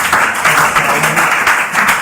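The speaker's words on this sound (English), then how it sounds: "With a big round of applause." An audience at a speaking event bursts into applause, a loud, close, continuous patter of many hands clapping for a couple of seconds with no break.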